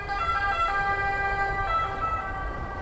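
An ambulance siren wails along a street in Naples, Italy, a continuous loud tonal siren with layered harmonics holding steady over low traffic rumble, close by and without talk.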